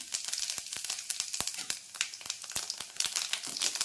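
Cumin seeds crackle in hot oil in a kadai, with rapid, sharp, irregular pops over a bright sizzle, up close and alone.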